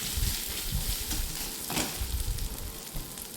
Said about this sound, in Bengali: পেঁয়াজ কিছুক্ষণ ভেজে নেওয়ার পর এর মধ্যে দিয়ে দেব 1 চামচ আদা আর রসুন বাটা। দিয়ে দেওয়ার পর ভালো করে নাড়াচাড়া করে নেব